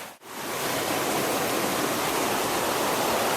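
Creek water flows in a steady, dense rushing wash, close and continuous with no talk, after a brief dip at the very start.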